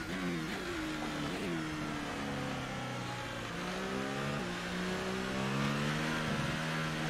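A McLaren Formula 1 car's engine revs and shifts through gears in F1 2018 at the Belgian Grand Prix, a continuous loud whine rising and dropping with each change, no talk over it.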